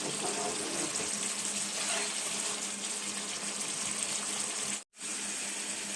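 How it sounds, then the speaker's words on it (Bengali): Water poured from a mixer jar into a pan of cooked-down curry masala for Bengali til katla, a steady splashing, running-water sound close by, cut by a brief silence near the end. "মিক্সির জারে আমি অল্প কিছুটা জল নিয়েছি, জলটা দিয়ে দিচ্ছি।"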